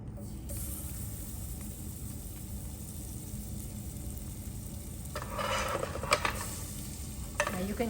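Garlic sizzles softly in shimmering hot oil as it browns for baby bok choy, a quiet continuous hiss with brief scraping stir bursts near the end, no voices.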